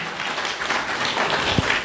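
Audience applause at a launch dinner at the Elysian Resort in Runda, a steady spread of clapping filling the room at moderate loudness for a couple of seconds.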